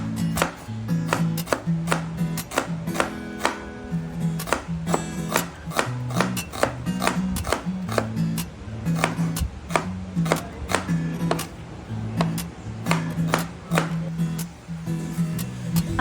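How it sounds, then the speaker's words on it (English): A knife slicing onion thinly on a cutting board for okoy, a fast steady run of crisp close chops with sharp board knocks, continuing for the whole stretch under a light background hum. "Cut your onion thinly and mix it with the rest of your vegetables."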